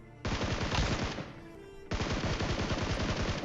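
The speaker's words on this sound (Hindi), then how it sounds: "तो उसके बाद जो है इधर से फायरिंग आती है।" Rapid automatic gunfire from a battle royale video game, two loud sustained bursts separated by a brief pause, crackling and close with no voices.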